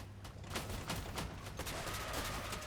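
Rapid bursts of video-game gunfire in an Atom build match of Uranium Wars, dense crackling shots in quick succession, fairly quiet and steady across the whole stretch.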